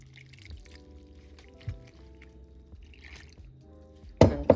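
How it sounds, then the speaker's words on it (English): Water poured into a bowl of Jamaican saltfish fritter batter seasoned with black pepper, a soft trickle and drips over a low background hum, ending with a brief louder splash. "Add water"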